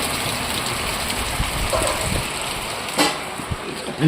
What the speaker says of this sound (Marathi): खूप जोरात पाऊस चालू आहे गाईज बाहेर